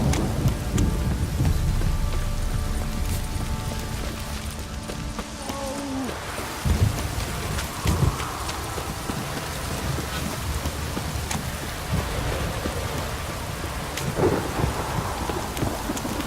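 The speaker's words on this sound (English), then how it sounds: "This downpour's a bastard" Heavy rain pours steadily with rumbling thunder rolling underneath, a dense, constant wash of sound with no pauses, in a video game.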